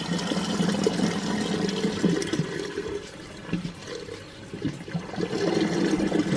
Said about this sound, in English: So I'm just pouring hot water down at the minute from